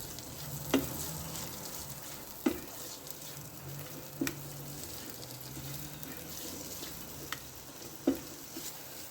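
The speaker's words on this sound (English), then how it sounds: "we're just going to fry the onions off. And we're just going to give that a stir" Onions frying in oil in a pan, a faint steady sizzle broken by several sharp clacks and scrapes as a spoon stirs them at intervals.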